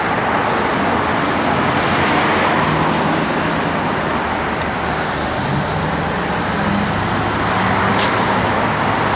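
Dense road traffic rushes past nearby in a continuous loud roar of tires and engines, with no breaks and no voices.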